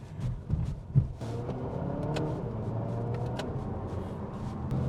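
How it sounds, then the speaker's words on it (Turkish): Skoda Superb Laurin & Klement 4x4 with 265 hp, accelerating through its gears, heard from inside as a steady, rising engine drone with a firm low rumble and brief shift dips. "Çok güzel ya şanzıman canavar gibi çalışıyor"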